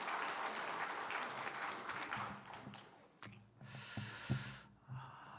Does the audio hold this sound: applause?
yes